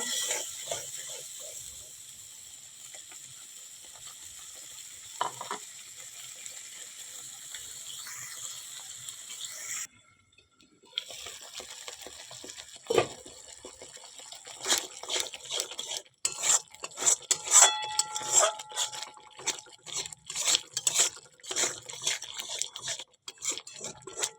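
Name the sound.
spice paste frying and being stirred for paneer curry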